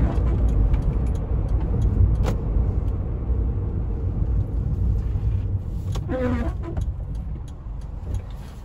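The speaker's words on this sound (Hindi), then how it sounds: "अरे आंटी ने भगा दी गाड़ी भाई।" Car driving on a city street at night in rain, a continuous close road and engine rumble with tyre hiss and a passing vehicle sweep, no talk.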